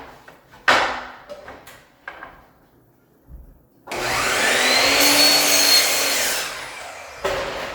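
A power miter saw cuts straight through a length of wooden baseboard at zero degrees, a loud sustained whine of blade through wood lasting a few seconds after some clattering handling knocks.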